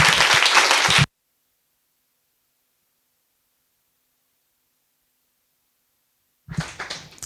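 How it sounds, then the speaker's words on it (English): An audience applauds to welcome the author Jhumpa Lahiri at an essay award event, a dense burst of clapping at the start that stops abruptly, followed by a long silence before a second short burst of clapping returns near the end. "Please join me in giving Jhumpa one more welcome round of applause."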